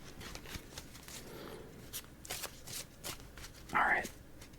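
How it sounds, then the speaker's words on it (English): Playing cards being riffled and shuffled in several quick bursts, close by, with a brief louder riffle near the end and faint background noise. "Shuffle up for the final game of the video."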